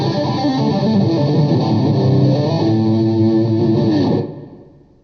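A distorted electric guitar plays a fast hammer-on and pull-off lick, repeated rapid notes held under heavy gain with chorus-like shimmer, close and loud, stopping abruptly near the end with no voices.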